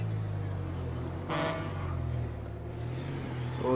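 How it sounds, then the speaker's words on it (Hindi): A loud, deep truck-style horn fitted to a Toyota Land Cruiser in GTA 5 blasts once, about a third of a second, over a steady idling engine rumble. "हॉर्न भी इसने ट्रक वाला लगवाया हुआ था"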